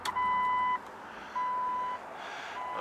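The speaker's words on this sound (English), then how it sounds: "Oh, I got beeping." Warning beeps from a Jeep Cherokee Freedom Edition with a failing charging system, sounding as three steady high-pitched tones that start, stop and start again over a low background hum.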